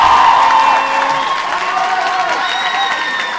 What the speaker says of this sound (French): on applaudit bien fort nos deux majors de promotion.